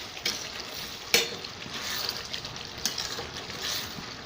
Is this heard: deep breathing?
no